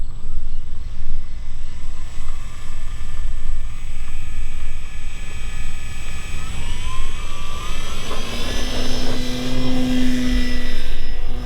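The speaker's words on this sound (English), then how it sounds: "So all I do is just push the throttle and." RC Sopwith Camel WWI fighter model airplane with its electric motor run up to full throttle, a loud steady whine that climbs in pitch over several seconds, close by outdoors with constant wind and rumble underneath.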